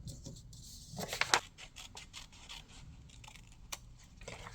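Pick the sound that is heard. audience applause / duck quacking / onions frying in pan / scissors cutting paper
scissors cutting paper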